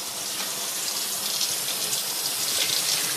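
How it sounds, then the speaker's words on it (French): Cold water runs from a kitchen tap in a steady, close hiss with no pauses and no one speaking. "Voilà, moi j'ouvre l'eau parce que j'ai toujours peur de brûler les tuyaux d'eau."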